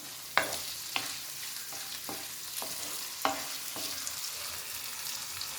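Salted onions fry toward golden in a pan for a baby corn gravy, a quiet continuous sizzle with occasional distinct scrapes and knocks of a spoon stirring against the pan.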